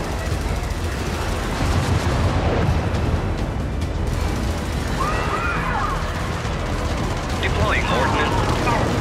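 Heavy artillery barrage in Helldivers, a dense roar of repeated explosions and gunfire that fills the scene continuously, with a radio-style voice speaking over the blasts.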